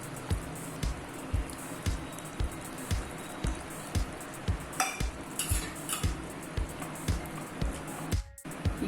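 Strained tamarind extract goes into a pan of frying chili powder for a South Indian vatha kuzhambu, giving soft sizzling and bubbling with regular stirring clinks of a utensil, quiet and close.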